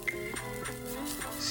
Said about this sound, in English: So it is time to add the garlic. I hope you can hear the sizzling sound.